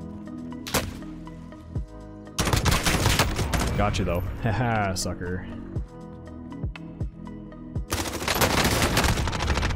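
Bursts of rapid gunfire in Call of Duty Modern Warfare Warzone, with loud automatic volleys and single sharp shots over the whole stretch, while a player talks and laughs over the shooting.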